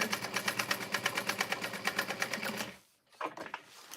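A sewing machine top-stitches a folded pocket seam in a rapid, even chatter of stitches for nearly three seconds, then stops briefly before a few quieter stitches resume.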